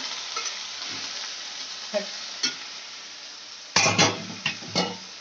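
Quiet sizzle of onions frying under repeated scraping and stirring in a pan, with a few louder clattering strokes near the end; no speech.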